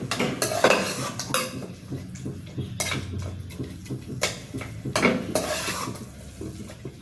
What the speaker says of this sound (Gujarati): 6 થી 7 મિનિટ થઈ ગઈ છે, આપણા રીંગણા એકદમ સરસ ચડી ગયા છે, અને એમાં જ આપણે મેશ કરી દઈશું